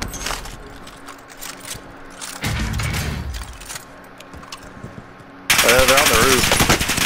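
Rapid automatic gunfire from a Call of Duty Warzone match, bursts of machine-gun fire rattling through the clip, loudest near the end, with game ambience and voices partly mixed in.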